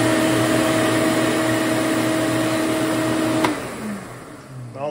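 A shop vac runs at a loud, steady whine while sucking material into its collection bag. It then shuts off and winds down near the end.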